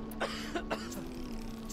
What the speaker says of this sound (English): Stop coughing, bro!